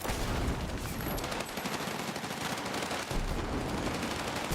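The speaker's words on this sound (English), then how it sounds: "I think I just threw a grenade in my own area" Dense, continuous gunfire with explosive bursts in a PC video game firefight where a grenade is thrown, a loud, unbroken rattle of shots with no pause.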